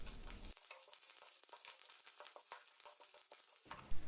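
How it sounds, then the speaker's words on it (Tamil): Mustard seeds, chana dal, chili, garlic and curry leaves sizzle and crackle in hot oil while being stirred for a cabbage poriyal, a steady close frying hiss with small pops and no voices. "இதெல்லாம் சேர்த்துட்டு நல்லா அந்த பருப்பு கலர் சேஞ்ச் ஆகிற வரைக்கும் வதக்கிக்கலாம்"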